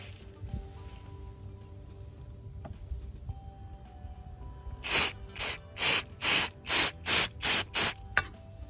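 Cleaner sprays onto the air flow sensor of a Toyota Prius in a series of about nine short, sharp hisses in a quick, even rhythm, loud and close after a quiet stretch of faint background hum.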